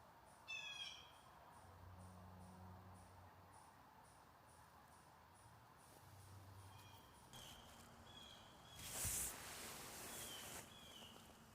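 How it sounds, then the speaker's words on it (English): Soft chirps and calls of birds drift in from a distance against a steady nighttime insect drone at a hammock campsite in central Pennsylvania, with a louder rustle near the end. "Well, you can hear the birds."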